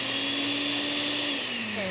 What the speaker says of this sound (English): See how I'm jogging it a little bit and it's starting to blend? Sometimes you have to do that with frozen fruit.